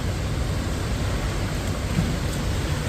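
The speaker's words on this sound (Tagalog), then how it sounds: "Medyo mahina na yung ulan ba." Steady rain falls in a continuous hiss, a dense even patter close by with no talking.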